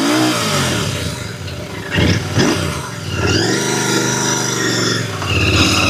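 A Royal Enfield Continental GT 650 motorcycle revs its engine repeatedly, loud and close, with throttle blips rising and falling over a steady running note and no voices.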